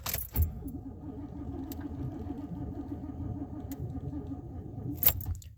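A car with a Quadrajet carburetor and a dead battery fails to start: keys jangle, then a weak, steady grinding drone holds for several seconds without catching, ending in another jangle.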